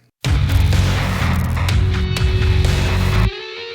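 Electric lead guitar solo with effects enters loud and sustained over a dense ambient backing, ringing on for about three seconds before cutting off to a faint tail.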